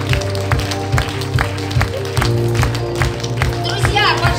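An audience at a company seminar claps in a steady rhythm as speakers walk onto the stage, with the even beats heard over a low musical hum and some voices.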